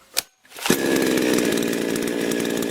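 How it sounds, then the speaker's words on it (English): A couple of sharp knocks, then a chainsaw engine with a dull chain starts and runs loudly at a steady rough buzz, close by. "We start the chainsaw, and look, the chain starts to rotate only when the gas button is pressed."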